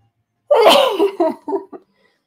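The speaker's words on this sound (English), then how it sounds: "I got to sneeze." A single loud sneeze bursts out near the mic, followed by a few short trailing breaths or giggles.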